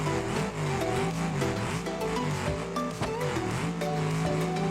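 Mercedes G-Class in the BeamNG video game driving off-road, engine droning and revving continuously with shifting pitch, tire scrubbing and squeals layered over it, loud and close throughout.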